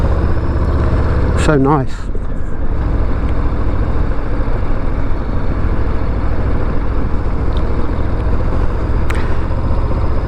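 A 2023 Harley-Davidson Low Rider ST motorcycle rumbles steadily while being ridden, its engine drone continuous under wind noise, with a short spoken remark near the start.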